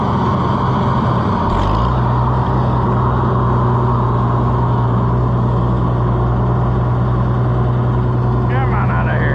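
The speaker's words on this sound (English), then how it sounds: "I'm gonna take this tractor up and air up that tire." A farm tractor's engine rumbles loud and close, holding a steady low drone after picking up early on.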